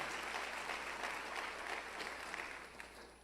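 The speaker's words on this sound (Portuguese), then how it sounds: "Pode aplaudir" Congregation applauding during an evangelical church service sermon, a faint, steady patter of many hands clapping together, heard from a distance and continuing evenly throughout.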